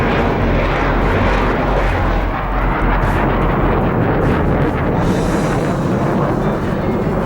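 Tejas, India's lightest home-built fighter jet, roars with its engine, a loud, dense, sustained rushing thunder with no gaps, heard up close with a slight shift in tone toward the end.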